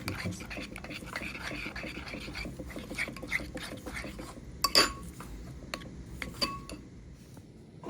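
Utensil stirring in a bowl to work olive oil into a shrimp and avocado preparation, giving soft repeated scraping and light clinks of metal on dish, close, with a few sharper taps and some talk in the background.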